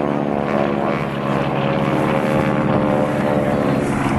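Stearman biplane engine droning overhead at an airshow, a loud steady radial-engine hum with propeller buzz that holds constant throughout.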